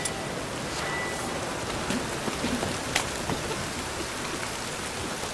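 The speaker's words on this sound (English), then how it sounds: "Looks like rain." Steady rain in the video game The Witcher 3, falling and pattering on surfaces, an even hiss with occasional sharper drips and taps.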